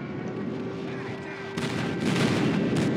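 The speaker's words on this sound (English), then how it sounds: "Friendly airstrike incoming." A friendly airstrike lands in Call of Duty Mobile, a dense rumbling barrage of booms and gunfire-like blasts that swells louder halfway through over steady game noise.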